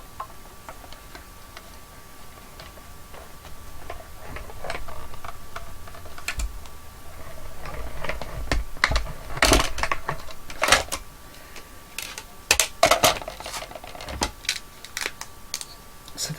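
A die cutting machine cuts paper owl parts, making a series of sharp clicks and ticking taps at irregular intervals over a quiet background.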